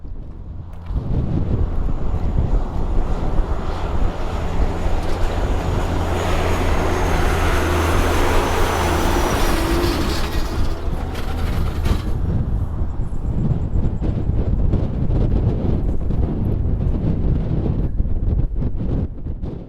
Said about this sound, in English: Hear the wind on the camera?